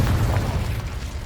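Confringo blasting spell from Hogwarts Legacy going off as a loud, low, rumbling explosion that fills the whole moment and stays heavy and sustained with no voices over it.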